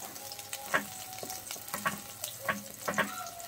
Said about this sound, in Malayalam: നെയ്യ് ചൂടാകുമ്പോഴേക്കും അതിലേക്ക് കുറച്ച് ചെറിയ ഉള്ളി അരിഞ്ഞത് ചേർത്ത് കൊടുക്കാം.